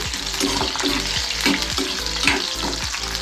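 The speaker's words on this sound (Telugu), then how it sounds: "పచ్చిమిర్చిని మంచిగా ఫ్రై చేసుకోవాలి" Green chillies frying in hot oil in a pan, a loud, close crackling sizzle with a few stirring scrapes over about three seconds, with no voices.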